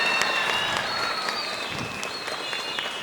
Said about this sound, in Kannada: ಒಂದು ಸರಿ ಆ ಮಗುಗೆ ಚಪ್ಪಾಳೆಯನ್ನು ಜೋರಾಗಿ ತಟ್ಟಿ